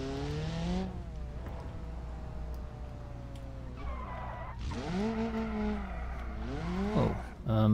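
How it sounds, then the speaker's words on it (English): A car in a driving video game, played with an RC car radio setup, revs its engine and squeals its tyres through a handbrake slide. Rising and falling engine tones sweep across the clip, with sharp skid squeals near the end. "now we can do a handbrake slide properly"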